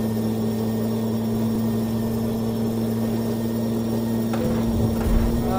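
A Peterbilt 389 truck in Euro Truck Simulator, fitted with an overpowered engine, gives off a steady, loud, humming drone with a strong low tone. It rises slightly with a few rough bursts near the end.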